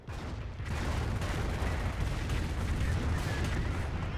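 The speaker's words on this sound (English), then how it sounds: "Not sure where this Calliope is going to be firing upon." A Calliope rocket artillery barrage in Company of Heroes rumbles as a dense, continuous roar of overlapping launches and blasts, loud and sustained from start to finish with no gaps.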